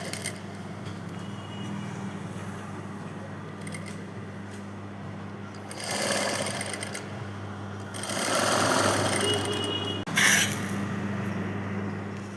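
A sewing machine stitches piping onto a dress in bursts, its fast mechanical whir rising and stopping between runs, with a brief click near the end and no talking.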